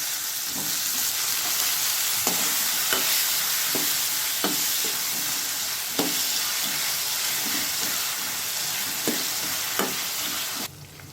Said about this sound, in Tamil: நம்ம கட் பண்ணி வச்சுருக்க கத்திரிக்காய் இதில் சேர்த்துக்குவோம்.